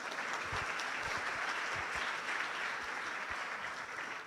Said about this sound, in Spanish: Un aplauso al artista